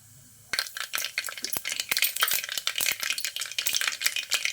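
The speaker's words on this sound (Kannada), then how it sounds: "ಅರ್ಧ ಸ್ಪೂನ್ ಸಾಸಿವೆ ಕಾಲು ಸ್ಪೂನ್ ಜೀರಿಗೆ ಫಸ್ಟ್ ಹಾಕೋಬೇಕು ಸ್ವಲ್ಪ ಚಟ್ಪಟನ್ ಸೌಂಡ್ ಬರಬೇಕು" Mustard seeds and cumin crackle and pop in hot oil in a pan, beginning abruptly and continuing as a dense, bright, close spatter of sharp pops for several seconds, with no voices.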